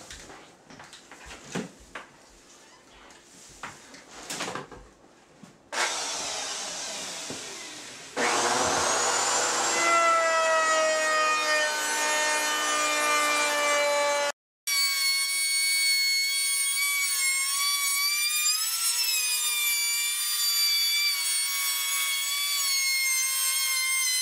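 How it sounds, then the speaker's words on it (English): A router cuts along the edge of a wooden table being made into a countertop, a loud continuous whine that starts after some light handling noise, cuts out briefly, then resumes steadily. "now we're going to route out this part of the table"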